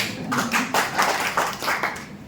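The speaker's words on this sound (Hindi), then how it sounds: "उमेश भाई हमारे जेंटलमैन है, उनके लिए जोरदार ताली हो जाए।" Audience applause in a motivational seminar hall, heard as ragged, uneven bursts of clapping that swell and fade several times over about two seconds, fairly loud and close.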